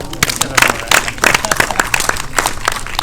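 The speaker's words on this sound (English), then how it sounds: "Give him a round of applause." Lively applause from an audience at a film Q&A with young actors, with distinct loud claps and cheering texture over about three seconds, mixed with some crowd voices.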